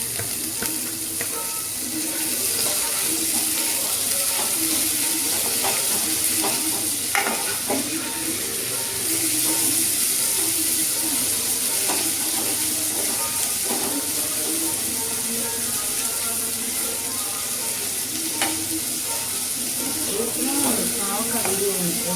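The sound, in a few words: bitter gourd sautéing in a pan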